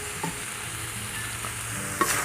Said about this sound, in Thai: ผัดต่ออีกนิดนึงนะครับ ให้กะเพราเราส่งกลิ่นหอม